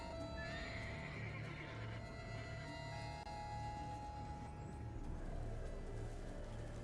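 A horse in Witcher 3: The Wild Hunt neighs and whinnies over a steady background of hooves and game ambience, fairly close, with no speech.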